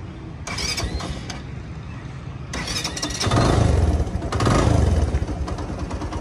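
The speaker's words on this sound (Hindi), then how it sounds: "और अभी मैं इस मोटरसाइकिल को स्टार्ट करता हूँ।" A modified, tour-ready Suzuki GS150 motorcycle is started close by: cranking bursts give way to the engine catching and settling into a loud, throbbing idle with a couple of rising revs.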